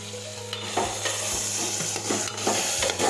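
Garlic chutney, turmeric and cumin are stirred and fried together in a pan for a vegetable curry of brinjal, potato, tomato, drumstick and peas, with a close, steady sizzle and repeated spoon scrapes against the pan and no voices.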